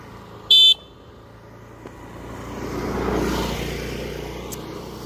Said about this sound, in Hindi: गाड़ी आ रहा है पीछे से